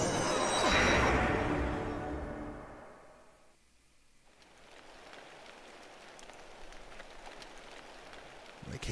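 Rain falling in the video game Ghost Trick, a steady soft hiss that starts loud and dense, dips briefly, then settles into a quieter, even patter for the rest of the stretch.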